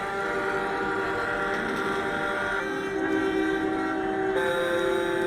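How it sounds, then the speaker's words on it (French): Trucks sound their horns in steady, sustained blasts over continuous road rumble, loud and close, with the horn tones shifting pitch partway through and no talking. "Vous voyez comment ils klaxonnent?"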